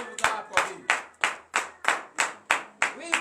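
A church congregation at a morning prayer service in Benin claps in acclamation, nine or ten sharp, evenly spaced claps in a steady rhythm, loud and close, with no talking over them.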